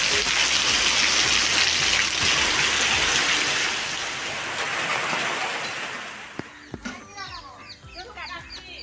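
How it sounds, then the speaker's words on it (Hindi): Heavy monsoon rain pours outside in a rural Odisha village, a steady loud hiss that fades after several seconds, leaving birds chirping and faint sounds of people nearby. "बाहर बहुत जोर वर्षा होते"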